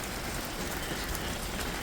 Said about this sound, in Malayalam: ഇപ്പോൾ മഴയാണ്